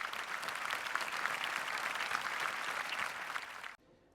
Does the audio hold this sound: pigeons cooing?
no